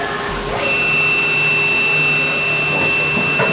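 A 2004 Haas VF-2SS CNC mill spindle runs at about 1,000 RPM with a loud, steady mechanical whine and hum, plus a faint high tone that rises and holds.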